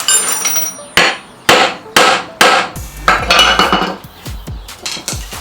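A hammer strikes a metal punch to dimple metal, sharp loud ringing metallic blows spaced about half a second apart, around a dozen in all, close and alone with no talking.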